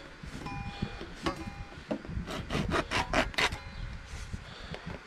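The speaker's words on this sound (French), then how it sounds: "Donc je donne des coups de scie dedans." A hand saw rasps through plastic pipe in a burst of quick back-and-forth strokes, close by and fairly loud.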